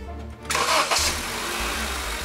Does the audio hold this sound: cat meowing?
no